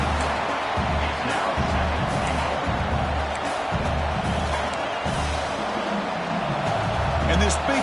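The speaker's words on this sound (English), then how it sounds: "this big crowd doing everything possible to inspire this defense down here near the goal line" A big football stadium crowd roars steadily near the goal line during a Nebraska versus Clemson game, a dense continuous wash of cheering with a rumbling low end throughout.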